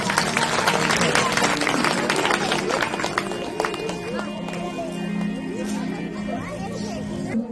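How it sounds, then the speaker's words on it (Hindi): Audience applause at a live Shri Ram katha religious gathering, dense clapping throughout under a steady wash of crowd noise and background music. "तालियां बजाइए"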